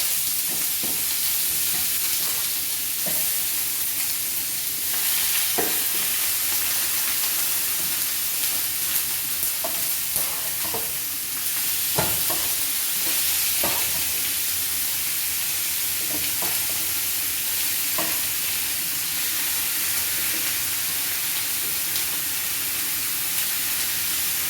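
Pieces of hare frying in a pan, a steady loud sizzle and hiss throughout with occasional scrapes and knocks as the meat is stirred and spread out, no talking.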